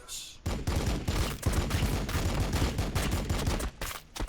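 Squads firing in the video game Warhammer 40k Battlesector, a dense, fast volley of overlapping gunshots, loud and sustained with brief dips near the end.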